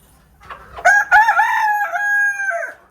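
A rooster crows loudly and close by, a long drawn-out call, with a few soft native hen clucks in the background, from caged chickens kept on a house rooftop.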